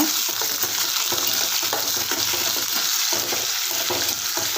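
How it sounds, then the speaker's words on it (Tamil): Small chopped onions fry in a pan, making a loud, steady, close sizzle with faint stirring clinks and no talk. "பெரிய வெங்காயம் குட்டி குட்டியாக கட் பண்ணி ஆட் பண்ணிக்கோங்க ப்ரௌனிஷாக வரணுங்க அந்தளவுக்கு நல்லா ஃப்ரை பண்ணி விடுங்க"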